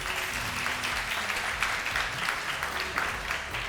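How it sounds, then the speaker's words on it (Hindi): Studio audience applause on a Ramazan television segment, a steady dense wash of clapping at even loudness throughout, without clear individual claps standing out. "तो लेट्स स्टार्ट विद तालियां इनके लिए।"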